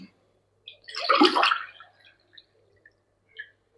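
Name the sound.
water being poured into a pot for biryani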